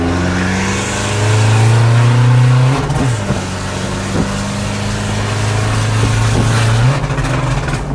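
A tuned car pulls hard in third gear toward about 3,800 rpm, its engine note climbing loud and close with a brief dip around each gear change before rising again, no talking.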